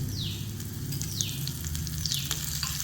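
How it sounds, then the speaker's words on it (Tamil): Hot oil sizzles steadily as green chili, asafoetida and curry leaves fry for a tempering, with brief stirring scrapes recurring over the constant close crackle, no voices. "இதாங்க தாளிப்பு"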